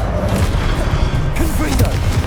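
Spell impacts from the video game Hogwarts Legacy burst out as loud, booming crashes and whooshes over a dense rumble, with a voice calling out during the brief flurry.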